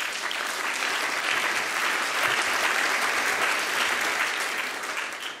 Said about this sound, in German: Ich finde, das ist ein Applaus wert.